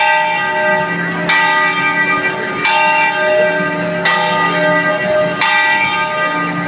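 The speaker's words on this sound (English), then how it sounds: "if they do end up putting the victory bell in here, here's what this is going to sound like." Ohio State's victory bell ringing in a slow, regular rhythm, each loud resonant strike swelling and decaying into the next, with about five strikes and no voices.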